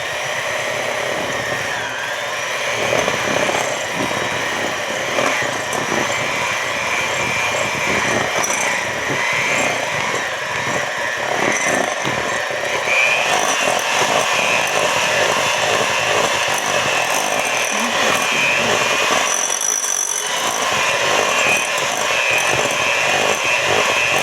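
An electric mixer whirs continuously and fairly loudly as it beats strawberry cake batter, with a steady buzzing drone and small fluctuations as the beaters move through the mix.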